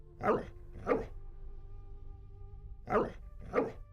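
Dogs in the video game Risen give four short, muffled barks in two spaced pairs over a low, steady game background hum.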